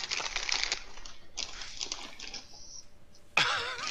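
Bursts of crisp crinkling from a chip bag being handled up close, in short irregular clusters, ending with a sharper rustle.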